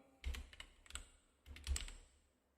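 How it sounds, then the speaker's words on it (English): Keys clatter on a computer keyboard in two short bursts of quick typing, close and moderately quiet, with no voices. "Let's just type something."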